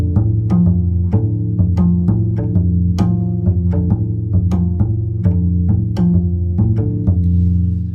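Two-handed harmonics ring out on a double bass in a 5 against 3 polyrhythm, bright plucked bell-like tones struck in a steady interlocking pattern over sustained low notes, close and clear with no talking.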